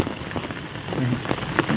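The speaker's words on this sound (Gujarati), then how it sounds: "આમાં ધાબલા ભરાણા ને એવો વરસાદ છે હજી ચાલુ જ છે જો વધતો જાય હે" Heavy rain pours steadily over a village in Botad, a dense, continuous hiss of drops drumming on surfaces and filling rooftops, close and loud throughout with no voices.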